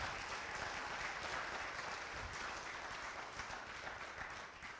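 A church congregation at Prairie Bible Church claps together for the third anniversary, a thick, even wash of many hands that stays fairly soft and distant and fades slightly at the end.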